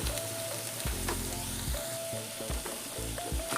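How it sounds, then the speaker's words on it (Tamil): Pallipalayam mutton frying with masala in a pan sizzles loudly and steadily up close, with intermittent scraping and stirring clatter over the continuous hiss. "இப்போ நம்ம போட்ட மசால் வந்து கொஞ்சம் ரோஸ்ட் ஆகிற வரைக்கும் ஒரு 2 நிமிஷம் நல்லா வதக்கிக்குவோம்"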